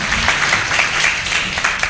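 Burst of applause from an audience at a lecture, steady dense clapping filling the short moment, fairly close and loud.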